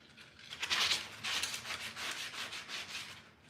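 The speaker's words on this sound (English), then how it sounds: "I'm gonna sand this a little bit" A vintage foam frame is hand-sanded in close, scratchy back-and-forth strokes, about six rhythmic passes in a few seconds, with no voices.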